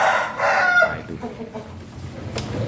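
A rooster on a chicken farm crows loudly and close by, followed by softer clucking from other fowl and faint farmyard background noise.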